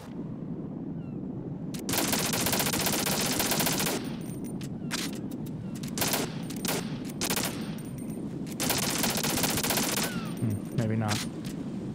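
Long bursts of automatic gunfire from the Metal Gear Solid 2 video game rattle in several loud, dense volleys, separated by short pauses.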